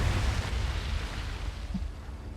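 A low, sustained rumble from an in-game explosion in the WWII virtual-reality shooter Medal of Honor: Above and Beyond, heavy in the bass and rolling steadily without a sharp onset, like the tail of a blast.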